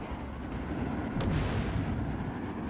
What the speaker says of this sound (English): Oh, and we exploded